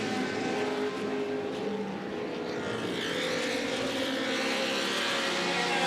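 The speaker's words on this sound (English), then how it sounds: "Ooh, a couple of cars go very slowly beneath me at St Mary's." Historic racing cars in the 2015 Glover Trophy pass slowly below at St Mary's, a steady distant engine drone with a gently swelling roar and no talk.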